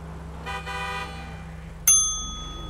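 A car horn honks once, short and sharp, from a Canis Terminus Patrol or Invetero Coquette D10 Pursuit in GTA Online at the end of an off-road run, over steady engine hum.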